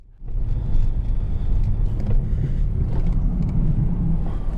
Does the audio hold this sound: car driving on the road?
yes